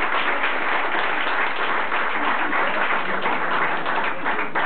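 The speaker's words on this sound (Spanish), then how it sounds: "darles un aplauso, que están lejos" Sustained audience applause at a live concert, a dense steady wash of many hands clapping at an even loudness throughout, with no voices rising above it.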